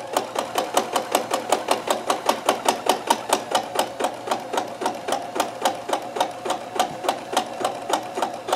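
A Kenmore 158.1914 sewing machine runs a chain stitch with a fast, even, mechanical clatter, each stitch a sharp tick in a steady rhythm, close and alone with no talk over it.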